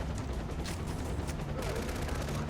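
Sustained machine gun fire in the video game Far Cry 4, a continuous rapid rattle of shots heard at moderate distance amid dense battle noise.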